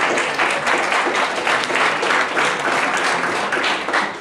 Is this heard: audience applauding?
yes